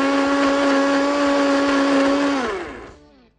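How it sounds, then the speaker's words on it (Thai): A kitchen blender whirs at a steady high pitch as it purees ingredients until smooth, loud and close, then spins down and falls silent after about three seconds. "และถึงขั้นตอนสุดท้ายปั่นทุกอย่างในเครื่องให้ละเอียดเลยค่ะ"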